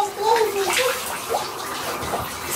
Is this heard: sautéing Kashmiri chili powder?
no